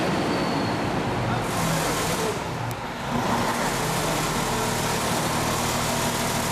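A Doosan diesel engine, fitted with a DGC 2007 electronic governor, runs steadily back at idle speed, a continuous near rumbling drone with a slight dip partway through and no talking over it.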